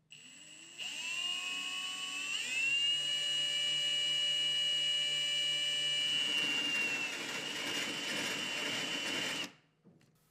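Power drill boring the center point of a hole saw into tile, with a wet sponge cooling the bit: a steady high whine that rises in pitch as it speeds up, then runs loud and constant before cutting off abruptly.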